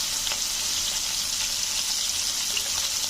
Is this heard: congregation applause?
no